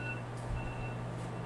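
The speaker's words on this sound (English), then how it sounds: "the timer's going off" A kitchen timer goes off while cookies bake in a home cooking session, giving a few faint, thin electronic beeps over a steady low room hum.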